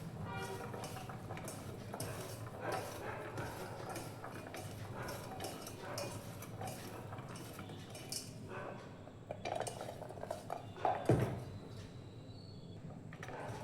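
Puffed rice being mixed with Maggi masala in a bowl, a steady close rustle and scrape of dry grains with a few sharper clinks of utensil against the bowl near the end.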